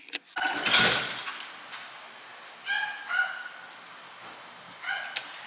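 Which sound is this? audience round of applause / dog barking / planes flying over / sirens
dog barking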